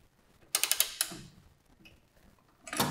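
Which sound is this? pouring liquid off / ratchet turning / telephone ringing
ratchet turning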